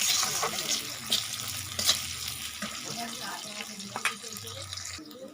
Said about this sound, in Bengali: আবারও ভালো করে নাড়িয়ে নিচ্ছি